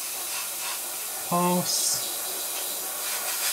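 An airbrush sprays paint onto a Seafire model with a soft, steady hiss of compressed air, while someone talks quietly over it.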